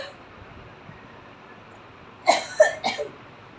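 A person with a cold coughing three times in quick succession, close and fairly loud, after a quiet stretch of room noise.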